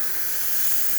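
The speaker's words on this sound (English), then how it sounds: "steam from the steamer one is nice and strong" A Fiorenzato espresso machine's steam wand blasts steam after a new heating element and full tune-up, a strong, steady hiss held evenly from start to finish.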